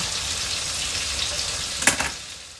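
Onions sauté in a pan with a close, steady hiss. A brief burst of spatter and clatter sounds near the end before the sizzle fades slightly.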